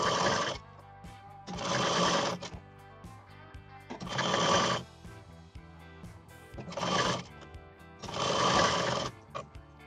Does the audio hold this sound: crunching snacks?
no